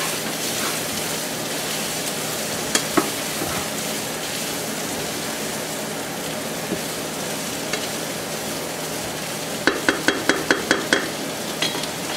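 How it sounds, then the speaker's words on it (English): Smoked sausage browning in a pan sizzles steadily as a dense, even frying hiss, with a quick run of sharp utensil clicks near the end. "All right, we're gonna let the sausage brown."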